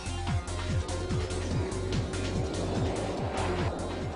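A motorcycle held in a long wheelie on tarmac, accelerating hard through the gears, its engine note climbing and dropping with each upshift in a steady repeating rhythm, loud and close throughout.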